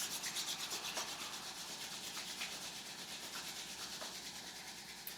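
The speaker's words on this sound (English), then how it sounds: "Start to rub your palms together quite vigorously." Palms rubbed together vigorously, a fast rhythmic swishing friction that repeats steadily for several seconds, close and fairly soft, with no talk over it.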